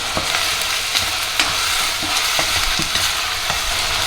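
Onions with curry leaves frying in a pot give a loud, continuous sizzle, with repeated stirring scrapes and taps throughout and no voices.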